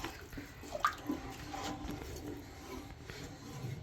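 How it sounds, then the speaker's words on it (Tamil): Water poured into a mixer grinder jar while grinding a tomato kurma paste, a faint, steady trickle and splash with a few drips, heard close and alone. "இன்னும் கூட தண்ணி விடலாம்"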